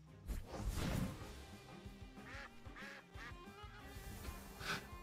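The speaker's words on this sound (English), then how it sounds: "It's little quacks." Small cartoonish duck quacks from a creature in the monster-battling game Temtem sound over busy game music and swooshing effects, with a louder quacking burst near the start and another near the end.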